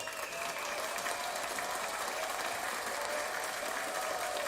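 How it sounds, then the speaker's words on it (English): Continuous applause from a crowd, dense and even throughout the short stretch, with no voices standing out above the clapping. "So round of applause to you guys as always."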